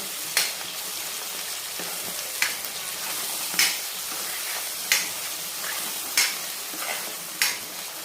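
Chicken masala with added tomato paste simmering and frying in a pan, a steady sizzle broken by six evenly spaced spoon scrapes against the metal, close and clear with no speech.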